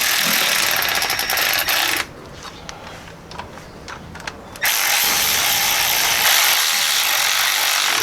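A ratchet snugs down the bolts on a Jeep XJ differential cover with light alternating turns, giving rapid clicking pawl bursts loud up close, broken by a quieter stretch with a few scattered clicks before the ratcheting resumes.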